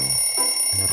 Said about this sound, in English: Let me just turn off this alarm. It's so loud.